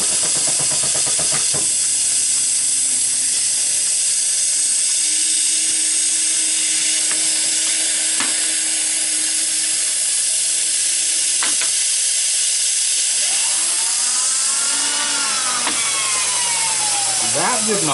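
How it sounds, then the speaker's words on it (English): A metal lathe faces off a workpiece with a steady, loud, high-pitched hissing whine throughout, and a few rising and falling squealing chatter sounds appear toward the end. "So I'm going to just face off this, clean up this first side, flip it over, and take the rest of it off the other side."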